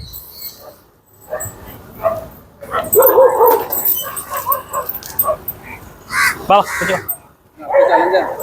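A dog barks and yips close by amid a noisy outdoor scene in Alappuzha, Kerala, with crow caws and people talking.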